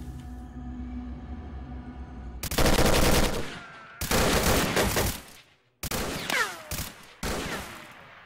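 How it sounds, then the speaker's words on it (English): Gunfire, likely a shotgun, in S.T.A.L.K.E.R.: Call of Pripyat: loud, close bursts of shots in several separate volleys with short gaps between them, heard over a steady low game ambience. "shoot with a shotgun from over there"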